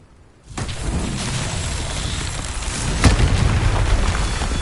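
A Confringo blasting spell explodes in Hogwarts Legacy, a sudden loud boom after a brief quiet start, followed by a rumbling burst of fiery crackle and a sharp secondary pop.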